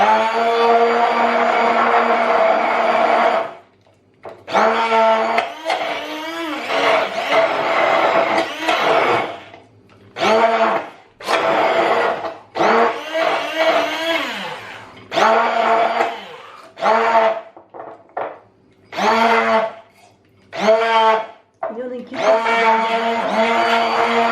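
An electric mixer whisks homemade mayonnaise in loud, steady bursts separated by short pauses. The whirring runs alone in a kitchen with no talk over it.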